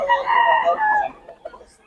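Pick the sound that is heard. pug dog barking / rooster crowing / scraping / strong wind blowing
rooster crowing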